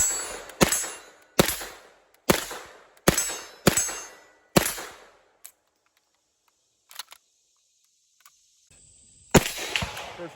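Gunshots from a POF-5, a Pakistani clone of the HK MP5, six loud sharp reports spaced about a second apart, each with a short ringing decay, followed by faint clicks and one more shot at the end.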